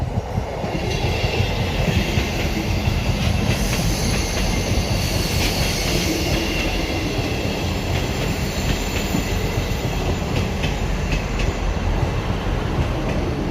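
A South Western Railway Class 159 diesel train departs Basingstoke station, a steady loud rumble of engine and rolling wheels with faint squeals and clatter throughout.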